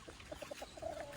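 Faint clucking from chickens, a few short tonal clucks followed by a slightly longer drawn-out call, quiet and somewhat distant.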